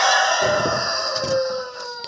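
A hen being carried to a nest makes a few close, agitated clucking calls, with soft rustling and handling noise around the short bursts.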